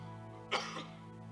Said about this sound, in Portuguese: Me desculpa hoje pela tosse